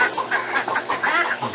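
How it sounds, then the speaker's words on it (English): Backyard hens in a food-forest coop clucking and chattering, several overlapping bursts close by, with ducks kept nearby. "Chickens up top."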